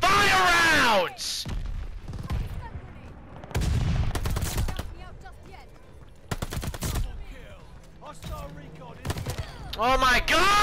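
Bursts of automatic gunfire from Call of Duty: Vanguard multiplayer, loud and close, several rapid volleys spread across the stretch with an excited voice shouting between them.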